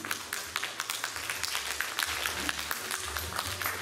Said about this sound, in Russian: Давайте еще раз мы аплодируем себе